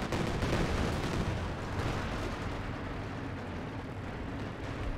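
A Katyusha rocket artillery barrage pounds in the Company of Heroes 2 video game, a dense, continuous rumble of overlapping blasts and crackling impacts, loud and unbroken throughout.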